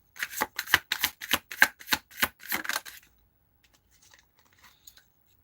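Deck of playing cards riffled in quick succession by a magician, about nine sharp crisp bursts in a fast even rhythm close up, then near silence with faint scattered handling noises.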